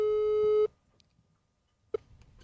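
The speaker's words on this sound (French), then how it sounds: "Je vais appeler le téléphone." A telephone call tone sounds as one steady, loud beep lasting about half a second and then cuts off, leaving near silence apart from a brief click and a faint stir at the end.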